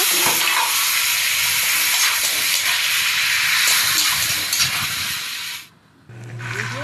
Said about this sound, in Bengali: তেল ছেড়ে দিয়েছি এবার এর মধ্যে সয়াবিনটা দেব